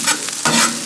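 Beef for cheesesteaks sizzles loudly on a Blackstone griddle as a spatula scrapes and turns it in one quick stir.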